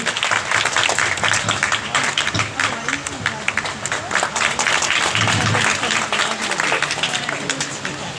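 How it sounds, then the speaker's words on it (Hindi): An audience at a talent award ceremony in Hanumangarh, Rajasthan gives loud, sustained applause to welcome a guest, dense clapping running for about eight seconds with a low voice or music murmuring underneath. "सभी जोरदार तालियों से उनका स्वागत करेंगे।"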